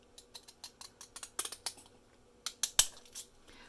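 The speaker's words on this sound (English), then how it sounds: "scissors, and they don't really cut all the way to the end." Cheap, not very sharp scissors snipping through paper while cutting a faux postage cutout, a quick run of close, crisp snips, then a pause and a few louder cuts.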